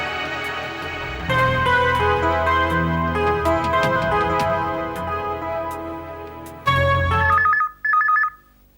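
An old-fashioned telephone bell rings in two short bursts near the end, following a sustained musical passage from a Hindi crime serial; no talking.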